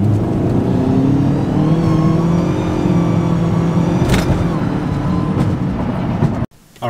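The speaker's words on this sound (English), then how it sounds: "so let's do a little second gear pull" A car pulls hard in second gear, its engine note climbing steadily and loud for several seconds before cutting off abruptly near the end, heard from inside the cabin.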